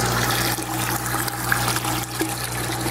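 Water rushes and gurgles through the tubes of a DIY waterfall RDWC hydroponic system, a continuous loud flowing wash with faint trickling detail.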